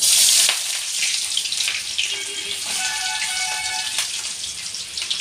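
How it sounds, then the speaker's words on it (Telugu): Mustard seeds, cumin and onions fry in hot oil, making a bright, hissing sizzle that starts loud and then settles into a steady crackle, heard up close with a few faint tonal ringing sounds in the background. "ఆవాలు జీలకర్ర కూడా వేస్తున్నా అండ్ ఆనియన్స్"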